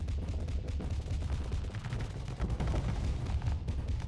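Dense, continuous weapons fire and explosions from spaceship combat in the space game Starsector, rapid overlapping booms and bursts with a heavy low rumble throughout, no talk.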